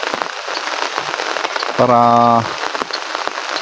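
Heavy rain falls steadily on outdoor surfaces on a wet day, a dense continuous patter with a short tonal, horn-like burst partway through and brief speech at the start.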